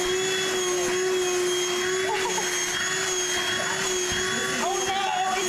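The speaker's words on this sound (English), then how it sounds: "Can you please hand me the vacuum cleaner?" A vacuum cleaner runs with a loud, steady whine and hum throughout, while people talk over it.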